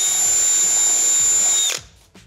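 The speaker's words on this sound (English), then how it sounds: "I just have to move around and drill out all my pencil marks" A power drill drilling holes in a shower base whines loudly and steadily up close, then winds down and stops, followed by a brief short burst.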